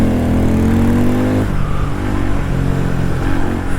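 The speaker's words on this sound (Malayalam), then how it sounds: "വണ്ടി നല്ല ലൗഡായിട്ടുണ്ട് കേട്ടോ. നല്ല രസമാണ്. ഇതിങ്ങനെ പൊട്ടിക്കൊണ്ടിരിക്കുകയാണ്." A Harley-Davidson X440 motorcycle's loud single exhaust revs close by, a dense, throaty engine roar that swells and then settles into a rough, crackling idle for several seconds with no voices.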